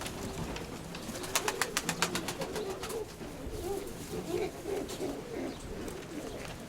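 Grey-speckled domestic pigeons coo softly nearby, low repeated murmuring calls with a burst of clicking or fluttering sounds in the middle.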